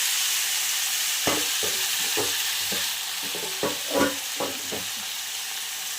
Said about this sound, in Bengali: এবার আমি এটাকে ভালো করে কষাতে থাকবো।